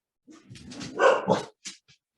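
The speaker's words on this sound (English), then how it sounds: "my dogs might start barking" A short burst of dog barking, a few quick barks and yips over about a second, fairly close and moderately loud, with nothing else around.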